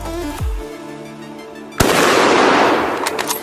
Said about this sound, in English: I just cocked this rifle, and I'm going to shoot it